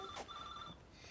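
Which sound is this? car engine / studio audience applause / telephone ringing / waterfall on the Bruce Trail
telephone ringing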